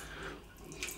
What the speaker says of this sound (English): let's put a little bit of water on the top of that soap